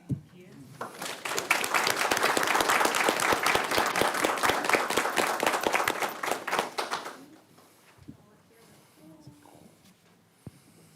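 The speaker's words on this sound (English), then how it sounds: "So we applaud Ms. Thomas for this achievement" Sustained applause from the audience at a school board of education meeting, a dense wash of clapping lasting about seven seconds before fading into quiet room murmur and a few small knocks.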